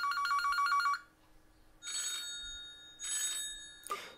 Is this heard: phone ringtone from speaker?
yes